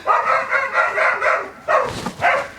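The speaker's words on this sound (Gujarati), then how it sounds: "હાલો લુલુ હાલ કૂતરાને શક પડ્યો છે કૂતરું સુગંધ લે" A dog barks in a rural Gujarati setting: a steady run of close barks at an even rhythm, then a short pause and a few more.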